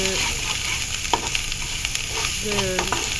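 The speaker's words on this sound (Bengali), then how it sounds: "এভাবে একটু নাড়িয়ে ভালো করে গুছিয়ে মশলাটা ভালো করে কষিয়ে" Spices and chilli powder stir-fried in a pan for a pangasius fish curry, a steady broadband sizzle with scattered scraping clinks of a spoon stirring, close and alone with no talking.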